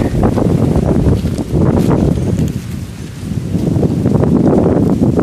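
Strong storm wind blows hard in sustained noisy gusts, roaring and rustling close to the microphone, dipping briefly before surging again.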